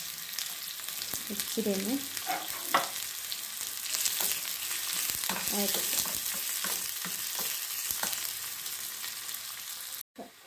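Chopped onions and round dried chilies fry in hot oil over popped mustard seeds, giving a steady loud sizzle with faint crackles throughout; a voice briefly murmurs a few words early on.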